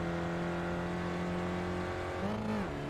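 In the iRacing sim at Donington, a Mazda MX-5 race car drones steadily on throttle, then its engine pitch swoops up as it accelerates out of the final chicane, heard close and fairly quiet.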